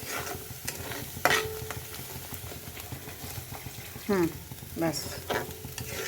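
Egg korma stirred in a pan after a splash of milk, with a soft sizzle and scraping spoon strokes running throughout, a few louder clinks midway, and a brief word spoken near the end.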